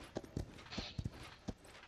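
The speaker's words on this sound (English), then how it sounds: "How are you riding a horse?" A horse's hooves clip-clop in the game Paladins, with a handful of sharp, separate hoof strikes landing in an uneven rhythm, fairly close and clear over a faint backdrop.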